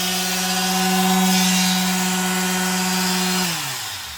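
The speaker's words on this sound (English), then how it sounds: "This is my new favorite quarter sheet sander. Just really nice running unit." A Black & Decker 4010 professional quarter sheet sander from France, with 40-year-old bearings, runs close and loud with a steady buzzing hum, then switches off and winds down over the last second.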